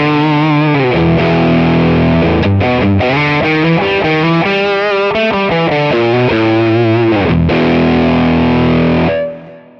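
A loud, heavily distorted electric guitar through a rodent-style drive pedal capture plays sustained chords and riffs, saturated and buzzing, then rings out and fades at the end.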